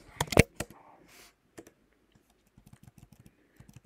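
Quick clacking keystrokes on a laptop keyboard, a fast burst at first and then scattered, softer taps with pauses, close and quiet.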